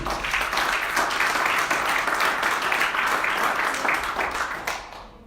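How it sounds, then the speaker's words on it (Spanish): A church congregation claps for the Lord during a Spanish-language sermon, a dense, steady wash of applause filling the room for about five seconds before thinning out at the end. "Denle un aplauso al Señor"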